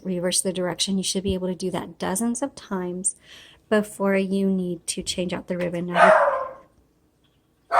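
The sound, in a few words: dog barking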